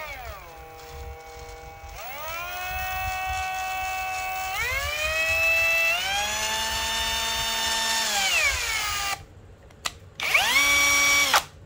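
A Makita power drill fitted with a 13 mm bit whines steadily at close range, its pitch rising and dipping as the trigger is squeezed and eased, with a short stop before it spins up again.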